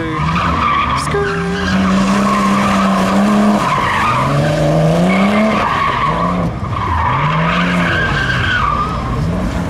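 Nissan Skyline R32 drifting on a wet, dusty track, loud sustained tyre squeal and skidding with wavering pitch as the engine revs rise and fall, heard from nearby.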